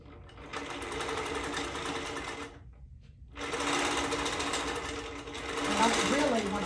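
A quilting sewing machine stitches fabric in steady, loud mechanical runs, pausing briefly for about a second midway before resuming, with a voice talking over the motor.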